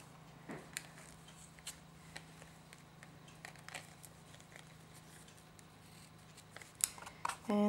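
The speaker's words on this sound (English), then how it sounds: "I'm just going to pull that tight and trim that down." Scissors trimming the ends of a tied ribbon on a Christmas card craft project, giving several quick, soft snips spread across the clip, then a louder cluster of cuts near the end, close by over a low steady hum.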